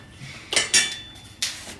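Chicken wings are tossed with breadcrumbs in a bowl, giving a few sharp clinks and scrapes of utensil against the bowl in three short bursts, close and otherwise quiet.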